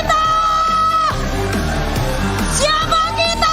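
A loud crowd yells, whoops and cheers at an Indonesia vs Philippines Mobile Legends: Bang Bang esports match, a continuous roar over ringing tonal sounds that swells again near the end.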